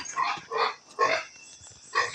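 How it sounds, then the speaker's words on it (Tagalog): A month-old farm pig gives a series of four short, hoarse grunting squeals, close and fairly loud, separated by brief gaps. "mao na ni ang atong usa ka buwan na baboy"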